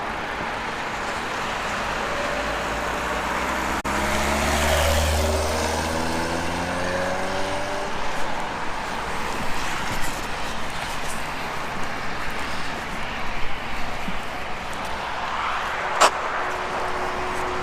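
Road traffic, cars and commercial trucks, sweeps past a roadside hitchhiking spot near Veurne, Belgium: one loud vehicle approaches and recedes early on, then a steady rush of passing traffic with wind buffeting.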